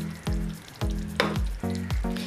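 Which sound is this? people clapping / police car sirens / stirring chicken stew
stirring chicken stew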